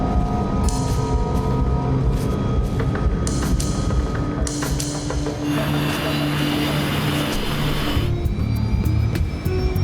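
Jet airliner engines roar steadily through a takeoff roll, a loud, continuous rushing drone with a rising whine and occasional clicks and shifts in tone.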